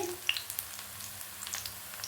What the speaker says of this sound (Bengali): বড়া ভাজা শুরু করে দিয়েছি